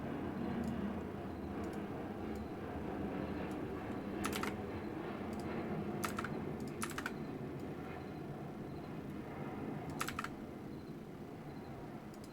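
Rapid, steady typing on a computer keyboard during an Elder Scrolls Online session, dense irregular key clicks running throughout with a few sharper, louder strikes over a low background hum.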